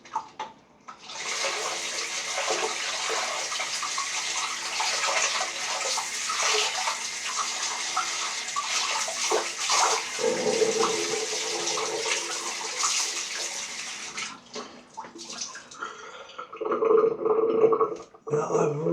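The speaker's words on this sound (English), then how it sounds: "I'm going to drain the water." Water running and draining from a sink after a shaving brush is washed, a continuous rushing, splashing flow close by that fades and turns gurgly toward the end, with someone talking over it at times.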